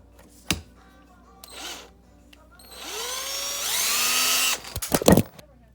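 A drill spinning an engine valve from a 1969 Kawasaki C2TR held in its chuck for polishing, with short bursts and then a rising, steady whine for a couple of seconds, ending in clicks and handling noise.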